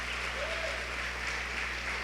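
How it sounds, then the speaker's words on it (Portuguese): Congregation applauding during a Sunday sermon in a church, a continuous dense clapping over a low steady hum, held at an even level throughout. "vocês podem aplaudir a Jesus bem forte, irmãos."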